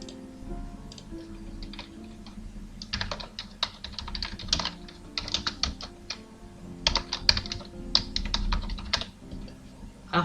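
Bursts of rapid typing on a computer keyboard, close and crisp, coming in irregular clusters of keystrokes with short pauses between them over a quiet room hum.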